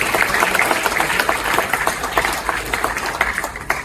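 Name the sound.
audience applause at awards ceremony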